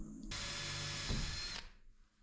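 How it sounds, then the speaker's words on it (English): Power drill boring a pilot hole into wood for a kayak hoist bracket, one burst of about a second and a half, close and loud, with a lower grinding as the bit bites in before the motor stops. "Now I can pivot the bracket out of the way and drill a second pilot hole."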